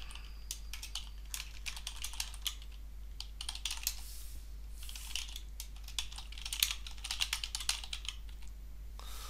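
Fast, close clicking of computer keyboard keys in irregular bursts as a search phrase is typed, over a steady low electrical hum, with no talking.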